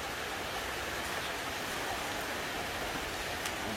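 Steady rain falls at a sacred site in Yogyakarta, a dense even hiss of drops that holds throughout with no voices.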